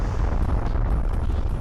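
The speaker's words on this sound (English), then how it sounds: "someone bass boosted the explosions in the background there" Bass-heavy explosions rumbling in the background of the video game Jak and Daxter, a continuous deep booming roar throughout with no pause.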